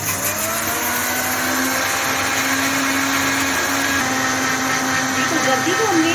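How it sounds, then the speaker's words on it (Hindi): Electric blender whipping the egg whites of four eggs for a stovetop marble cake, a loud, steady high-pitched whir that runs unbroken for the whole stretch. "अब हम इसमें सफ़ेदियों को हमने 3 मिनट के लिए ब्लेंड करना है"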